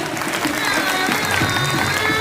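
Audience applause for a singer at a Diwali gift-distribution gathering, a steady, dense wash of clapping from a crowd that holds at an even level throughout, with some voices mixed in.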